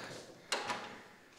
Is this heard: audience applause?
no